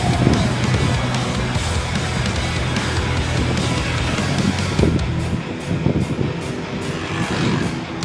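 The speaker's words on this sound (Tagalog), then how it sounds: "Oh, lakas ng hangin." Strong wind roars steadily into the microphone throughout, a loud continuous rumble with gusty low buffeting, at Mina Falls in Trece Martires.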